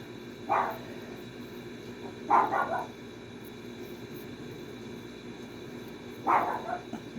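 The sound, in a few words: dogs barking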